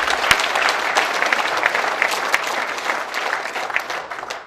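Sustained applause from a crowd at an alumni association chairman inauguration and New Year ceremony, dense and even clapping filling the room without a break.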